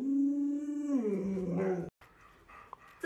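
A plump puppy gives a drawn-out, wavering howl that slides down into a whimper, then short faint yips and whines follow after a brief pause, close and fairly loud.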